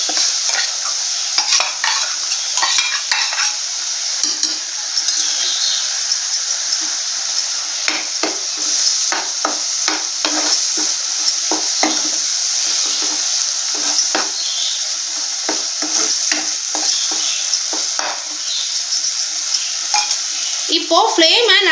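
Ground coconut paste sautéing in hot oil in a pan for paruppu urundai kuzhambu, with a steady sizzle and repeated scraping stirs of a spoon against the pan, close and continuous throughout.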